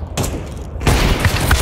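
Counter-Strike 2 deathmatch on Dust II crackles with gunfire: a sharp shot, a brief lull, then a louder burst of close rapid reports with booming low thuds, punchy and near, with no voices over it.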